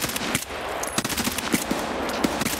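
Dense automatic gunfire in the Escape From Tarkov shooter game, with rapid bursts of rounds cracking through a busy battle soundscape that stays loud from start to finish.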